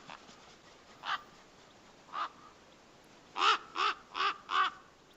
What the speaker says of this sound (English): So here we want to record the bird sound